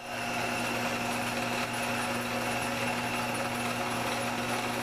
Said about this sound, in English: So this is high speed so far as this drill is concerned.